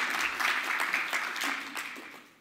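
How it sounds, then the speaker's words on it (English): Audience applause for a speaker at a public brain-health talk, a steady wash of clapping that holds for a couple of seconds, then fades out at the end. "So a small round of applause, please."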